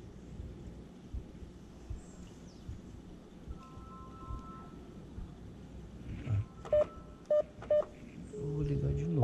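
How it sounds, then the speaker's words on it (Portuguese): A phone is dialed for a call during delivery work outdoors. Several short keypad tones beep in a quick series near the end, over rain-like background noise, with talk around them. "Vou ligar de novo."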